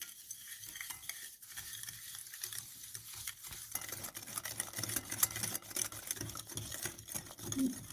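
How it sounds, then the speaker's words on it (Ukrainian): Egg and sugar are whisked in a deep bowl, a quiet rapid rhythmic clatter of the whisk that grows busier and a bit louder in the second half. "Додаю цукор і вінчиком гарно збиваю."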